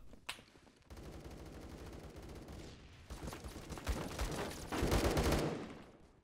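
Rapid automatic AK-12 gunfire in the Roblox game Phantom Forces rattles in sustained bursts that grow louder toward the end, with a sharp single shot near the start.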